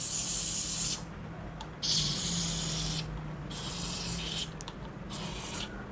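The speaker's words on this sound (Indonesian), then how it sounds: "Saya semprot aja ya, tambah dengan grease." Grease lubricant sprays onto gearbox parts in several bursts of hiss, close and fairly quiet, with short pauses between the sprays.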